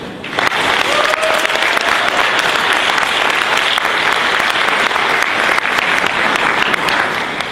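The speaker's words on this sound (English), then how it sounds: "Let's all give ourselves a round of applause." An audience at a competition event breaks into loud, sustained applause, a dense wash of clapping that continues evenly for several seconds.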